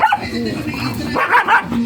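Dogs bark and yip in short, close bursts, louder toward the end, with faint voices mixed in.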